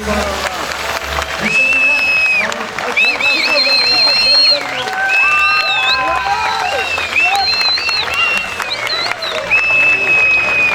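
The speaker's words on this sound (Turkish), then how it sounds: "Efendim biraz daha şöyle alkışlar canlı olsun" A concert crowd applauds and cheers for a Turkish song performance, with continuous clapping under wavering whistles and shouted voices throughout, loud and lively.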